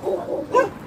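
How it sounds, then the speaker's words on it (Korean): Large dogs at a Gimpo animal shelter for abandoned dogs bark and yip in a short, close burst lasting under a second. "여기는 주로 대형견들만 있네요"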